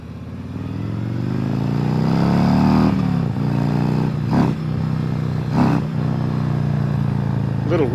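Motorcycle engine revving up on a road as the rider pulls a small wheelie, a rising then steady drone with a couple of brief throttle blips, close and loud.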